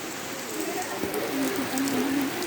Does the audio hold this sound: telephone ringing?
no